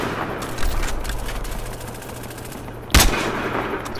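A sniper rifle fires in a first-person shooter video game set in night-time woods, with two sharp, loud shots a few seconds apart that each ring out and echo, and no talking.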